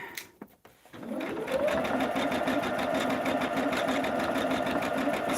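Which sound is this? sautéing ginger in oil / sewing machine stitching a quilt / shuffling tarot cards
sewing machine stitching a quilt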